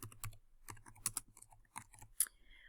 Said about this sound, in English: so I'm going to type in 3rd grade.